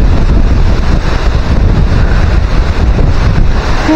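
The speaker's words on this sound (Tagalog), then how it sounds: "Pambihira mga kasisid ng lakas hangin" Strong typhoon wind roars steadily into the microphone for several seconds, a loud continuous rushing gust with buffeting, no voices present.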